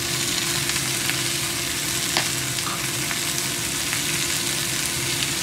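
Shrimp sizzle and crackle steadily in a hot pan as ground black pepper goes in, with a dense frying hiss and occasional stirring clicks up close.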